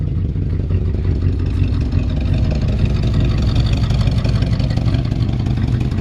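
A 1965 Chevrolet C10 pickup's deep, steady engine rumble idles close by, a low throaty exhaust note holding even throughout with no pauses.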